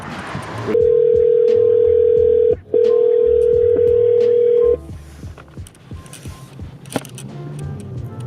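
A telephone line gives a steady dial tone in two long bursts with a short break, then cuts off, leaving quiet room noise and faint rustling as the call is being placed.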